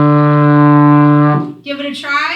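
A trombone holds a steady, loud D in fourth position for over a second, then breaks off into a short, buzzy, wavering tone.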